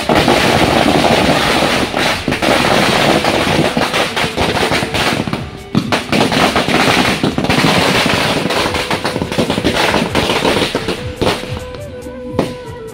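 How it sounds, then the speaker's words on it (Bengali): A long string of firecrackers bursting on a street, a loud, dense, continuous crackle of rapid pops lasting many seconds before it thins out into scattered bangs. "পুরো বাজিটা একসাথে ফুটালো"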